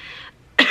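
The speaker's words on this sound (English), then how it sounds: "please excuse any coughs or phlegminess" A single brief cough, sharp and close, following a short hiss of breath.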